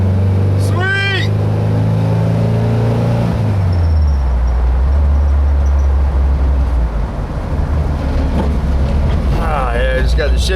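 A bus engine droning low and steady as the vehicle drives, its pitch dropping after a shift, with road rumble and a bit of rattling throughout, loud and close from inside.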